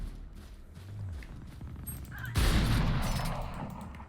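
A powerful weapon in the game Chamber fires a heavy burst that cuts in abruptly and continues as a dense, loud rumble of shots after a stretch of low background noise.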